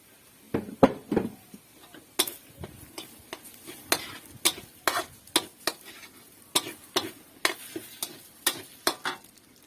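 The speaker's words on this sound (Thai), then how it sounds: "รอให้ ผัดจนข้าวมันสุกนะ ผัดจนข้าวสุกนะ" Rice stir-fried in a pan with dark soy sauce for a sweet Thai fried rice: close, quick scraping clacks of the spatula in a busy irregular rhythm over a faint sizzle, with no talking.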